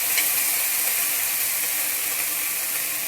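Pav bhaji sizzling in a spoonful of oil on a hot tawa, a steady, bright, close frying hiss that holds evenly throughout with no talking.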